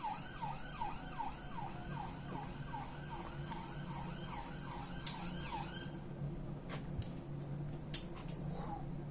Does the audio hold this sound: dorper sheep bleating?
no